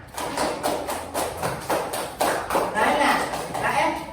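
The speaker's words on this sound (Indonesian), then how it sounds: "Pintar, tepuk tangan." Children in a classroom clap their hands together in a loose, rhythmic burst of separate claps, fairly close and moderately loud, with a few uneven, slightly scattered beats.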